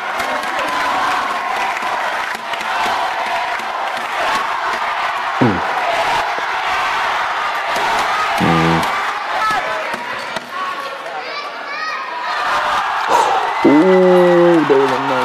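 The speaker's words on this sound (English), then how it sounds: "Big crowd." Large crowd roaring and cheering at a pencak silat martial arts match between PSHT and Persinas ASAD fighters, a dense continuous wall of noise with whoops and shouts, voices talking over it.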